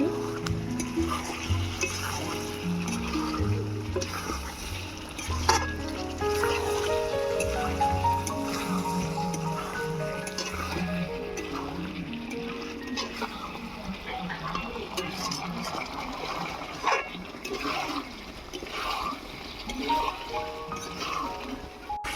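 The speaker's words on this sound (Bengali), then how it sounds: "চিকেনটা আমি অল্প করে জল দিয়ে ভালো করে কষিয়ে নিচ্ছি" Chicken stirred and braised with a little water in a pan for a spinach chicken dish. A steady close sizzle runs throughout, with a spoon repeatedly scraping and clinking against the pan.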